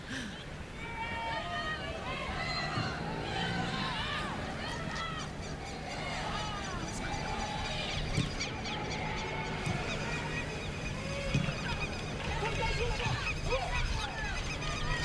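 Dense stadium crowd roar at a U-17 women's World Cup soccer match between the USA and Cameroon, a steady wash of cheering, whistles and chatter throughout with commentary voices over it.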